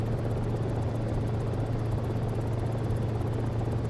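Cicare-8 helicopter in the X-Plane flight simulator, a steady loud rotor and engine drone with rhythmic blade chop, continuous and close, with no talking.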